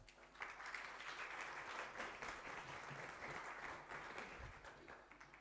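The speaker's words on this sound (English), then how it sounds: "Let's give him a big round of applause." A conference audience claps steadily as a speaker is introduced, a continuous dense wash of many hands at a fairly distant, moderate level without a break.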